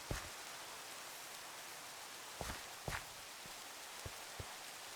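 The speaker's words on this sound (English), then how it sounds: "Wish it wasn't raining." Steady soft patter of rain from Minecraft, a constant hiss with a few faint footstep-like taps and thumps scattered through it, no talking.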